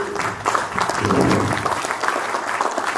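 An audience at a parliamentary report-back event in a hotel in Muanda claps steadily, dense applause filling the room for a few seconds, fairly close.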